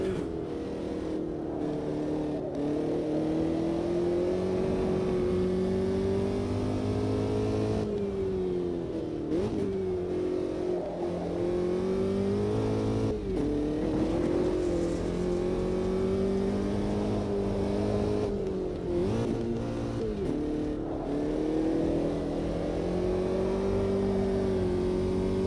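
A race car engine in the Automobilista 2 racing game drones loud and continuous, revving up and down through gear changes with a whirring, buzzing tone and no talk.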